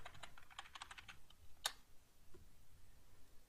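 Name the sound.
typing new root password on computer keyboard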